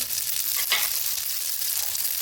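A dense, steady hiss of mustard seeds sizzling in hot oil fills the clip, loud and close, with faint crackles and a brief stir sound.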